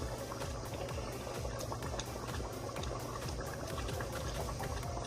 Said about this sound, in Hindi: हमारे जो है उबाल आ गया है